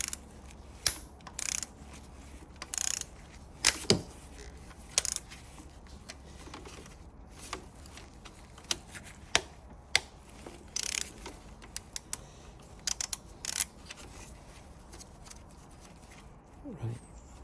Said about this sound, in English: try loosening the nut first, like I will here